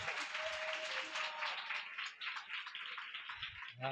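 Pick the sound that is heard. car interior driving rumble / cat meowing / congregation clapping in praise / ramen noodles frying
congregation clapping in praise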